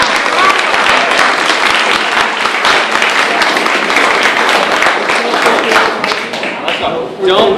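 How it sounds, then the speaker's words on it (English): A room full of people gives a round of applause for a coordinator, loud close clapping that runs steadily before thinning out near the end, with faint voices mixed in. "How about a round of applause for our coordinator?"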